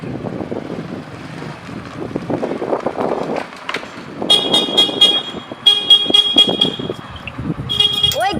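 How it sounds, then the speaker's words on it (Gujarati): A car horn honks in repeated bursts during a festive Uttarayan street scene, the beeps cutting in loudly after a stretch of outdoor noise and wind buffeting, with a voice talking around them. "ઓય ગાંડા, હોરન ના માર"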